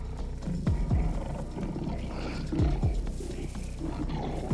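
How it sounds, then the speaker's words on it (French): A lion roars in a series of deep, rumbling bursts with short pauses between them, loud and close against a low steady background rumble. "Le rugissement résonna"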